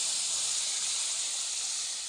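Tamarind mixture for samosa chutney sizzles loudly in a hot pan, a steady, dense hiss holding for a couple of seconds with no talk over it.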